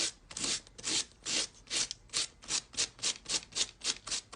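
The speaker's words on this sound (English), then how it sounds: "You can sand right over those edges, and do you see how it just gives it more texture?" Sandpaper rubbed over the edges of folded craft paper for a butterfly, steady rhythmic rasping strokes that speed up toward the end, close and clear with no voices.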